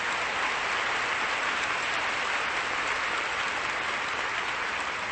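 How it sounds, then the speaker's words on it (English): Sustained, even applause from a large audience at a women's conference, a dense wash of clapping with no pauses. "I think we should give them a round of applause to show our tremendous respect."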